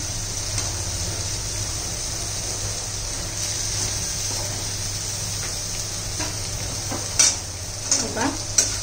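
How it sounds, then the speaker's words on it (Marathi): Bitter gourd is stirred in a hot pan after lemon juice is squeezed over it, producing a constant close sizzle that ends in a few louder spatula-on-pan clacks. "आता मिक्स करते लिंबू पिळल्यावर"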